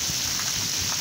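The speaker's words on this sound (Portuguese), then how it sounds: "Muito chuvão, relâmpago, raio muito." Heavy downpour in a windy thunderstorm in northeastern Brazil, a constant loud hiss of rain with soft low wind buffeting underneath, no one speaking.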